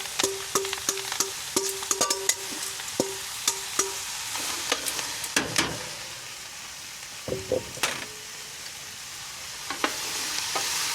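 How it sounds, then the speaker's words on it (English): About five onions are stirred in a pot as they start to caramelize, with steady sizzling and frequent sharp scrapes and clinks of the spoon against metal, close and alone. "we're going to put about 5 medium to large onions in here and get that all caramelized"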